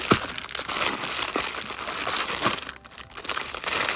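Close-up crinkling and crumpling of plastic packaging, a continuous rustling with a few sharper crackles as it is handled and pulled open.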